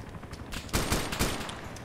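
Rapid gunfire in the video game ARMA 2, a short dense burst of shots that swells loud in the middle and fades, with no talk over it.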